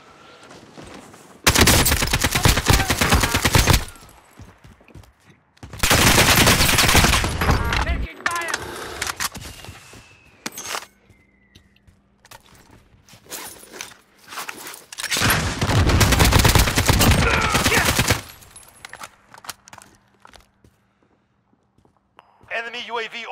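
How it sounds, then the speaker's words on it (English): Loud, dense bursts of shotgun fire in a first-person shooter game arrive in several long blasts with quieter gaps between them, and a player talks over the action. "that's a shotgun."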